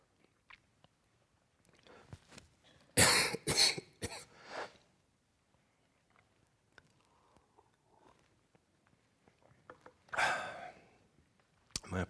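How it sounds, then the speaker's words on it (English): Several bursts of coughing and throat clearing from a presenter during a conference talk on CSS color, a loud cluster around the middle and another near the end, with quiet pauses and faint breathing between. "My apologies for all the coughing."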